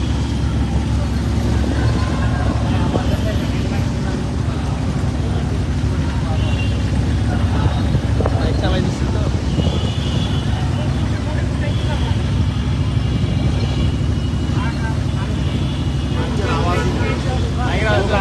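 Thousands of motorcycles roaring through a political campaign rally in Dhaka, a dense, continuous engine drone with shifting revs and passing bikes, loud and unbroken throughout.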